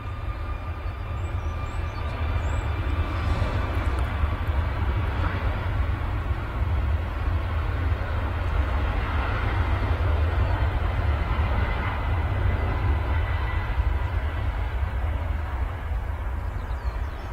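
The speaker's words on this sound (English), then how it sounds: "There she goes, take it to the sky, the 737 MAX 8200" A Ryanair Boeing 737 MAX 8200 takes off at Manchester Airport, a steady low jet roar with a faint whine on top, sustained throughout at moderate distance.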